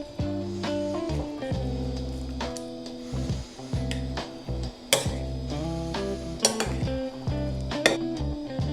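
Tuna, egg and avocado salad being mixed in a bowl, with clinks and scrapes of a utensil against the dish over steady background music, close and moderately loud, no talking.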